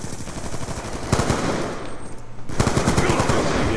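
Rapid bursts of automatic gunfire in a multiplayer shooter game rattle continuously and loudly, with a brief lull mid-way before the firing resumes, dense and close.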